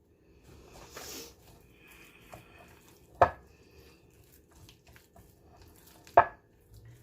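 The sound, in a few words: slicing a banana with a knife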